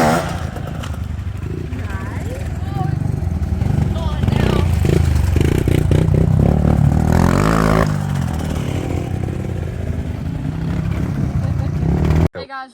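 Pit bikes ridden along a trail toward a hidden lake, their engines droning loudly and steadily close by with rising revs and some rattling, while voices talk over them before the engines cut off abruptly at the end.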